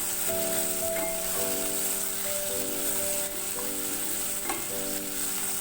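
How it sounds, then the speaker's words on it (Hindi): Onions fry in hot oil over a medium flame, producing a continuous even hiss of sizzling with a soft melodic tune playing steadily underneath. "ऑयल हमारा गर्म हो जाएगा तो हम इसमें प्याज डालेंगे।"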